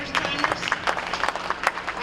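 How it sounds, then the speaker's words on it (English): Applause at a business opportunities breakfast as the room claps for first-time attendees, a fairly loud, uneven patter of hands mingled with crowd noise and some voices. "round of applause for all the first timers"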